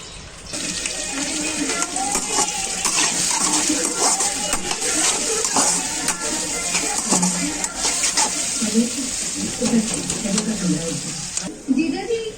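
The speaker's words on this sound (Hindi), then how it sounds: "ये देखो सब्जी तो छोंक रही है, प्याज भुन रही है अभी।" Chopped okra, green chillies and onion sizzle loudly while being tempered in a hot pan, a dense continuous frying hiss with stirring scrapes, heard up close with brief talk over it.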